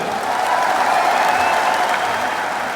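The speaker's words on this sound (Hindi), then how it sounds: "एक बार इनके लिए भी जोरदार ताली हो जाए।" A large rally crowd in a stadium breaks into loud, sustained applause, a dense continuous clatter of clapping that holds steady for a few seconds with no speech over it.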